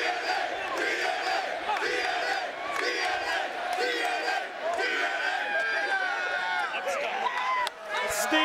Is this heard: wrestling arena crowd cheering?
yes